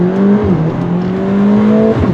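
A 2021 Mercedes-AMG GLA 45 with a dual-clutch gearbox accelerates hard, its engine note climbing steadily and loud in the cabin, with a brief dip at a gear change before pulling on.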